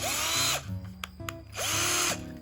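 A cordless 198V drill with two batteries whirs loudly in two bursts, spinning up and winding down, with a short pause of quieter clicks and handling between them.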